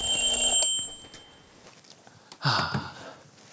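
An alarm clock rings with a bright, shrill, rapid tone for about half a second, then stops. A faint rustle and a breathy sigh follow in a quiet room.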